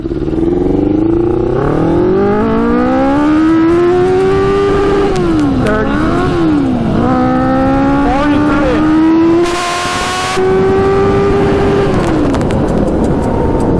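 A modified 100 hp Yamaha Banshee quad engine accelerates hard and loud at close range. It revs climb through the gears, with brief dips at the shifts, and then hold a high whine.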